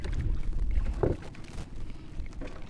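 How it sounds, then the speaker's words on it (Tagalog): Strong wind gusting over open water during a crab-catching outing, heard as a steady broadband roar and microphone buffeting that swells and eases across the whole stretch with no talk. "malakas ang hangin."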